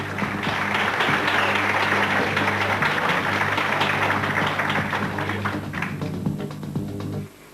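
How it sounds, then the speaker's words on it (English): A conference audience gives sustained applause for Stan Deyo, a thick wash of clapping that holds steady for several seconds before stopping abruptly, with a low steady hum beneath. "Round of applause for Stan Deyo."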